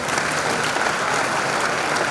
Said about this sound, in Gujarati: તાળીઓના ગડગડાટ સાથે વધાવી લઈએ